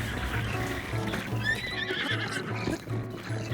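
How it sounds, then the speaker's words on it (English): Horses neighing and hoofbeats as a bokoblin army rides in Zelda: Breath of the Wild, a clear whinny rising over steady clip-clop and game music. "And an army of bokoblins on horses."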